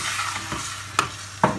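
Browned beef mince and tomato sauce stirred together in a pan, a soft scraping stir with a couple of sharp spoon clacks against the pan, close and moderately quiet, no talking.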